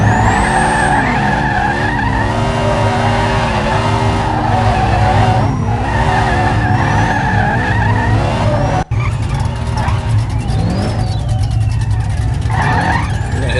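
A NASCAR race car in the No Limit Drag Racing video game laps a track, its engine roaring loud and continuous with rising and falling pitch as it shifts, and tires squealing through the corners.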